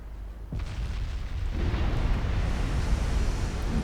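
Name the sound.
battleship big guns firing in a naval video game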